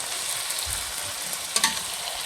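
Baby squid for adobo sizzles steadily in a hot pan while being stirred, a dense close frying hiss with a couple of brief utensil scrapes.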